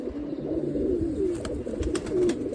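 A hen pigeon from a fancier's loft gives a low rolling coo up close, the soft throaty sound rising and falling in a few phrases over a steady murmur, with light tapping and rustling noises scattered through it.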